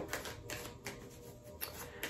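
Tarot cards being shuffled by hand, a series of quick papery riffles and taps spaced irregularly, close and fairly quiet, with no talking.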